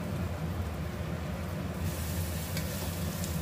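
Spices such as cumin powder and salt sizzling loudly as they roast in a hot pan, a dense continuous hiss with faint scraping of stirring.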